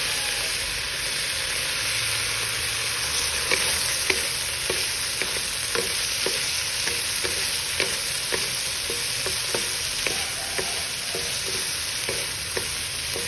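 Sausages fry with soy sauce in a pan, a steady sizzle under regular light stirring scrapes and taps, close and moderately loud, with no talk.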